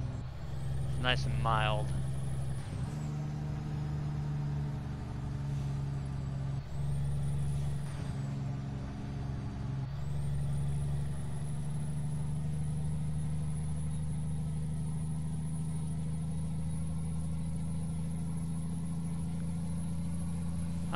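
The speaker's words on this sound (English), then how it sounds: "the only thing this truck really sounds good at is the low RPM bog down. And the jake brake." A truck engine in American Truck Simulator lugs at low RPM, then the jake brake chatters in a steady, deep drone, with a voice speaking briefly over it early on.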